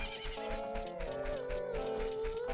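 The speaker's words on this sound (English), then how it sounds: "there's a lot of nice freaking horses here" A horse in The Legend of Zelda: Ocarina of Time gives a loud, sustained whinny over a thick, busy game soundscape that includes clopping hooves.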